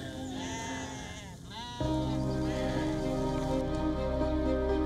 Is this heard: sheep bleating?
yes